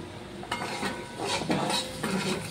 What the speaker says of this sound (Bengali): এইভাবে নাড়াচাড়া করছি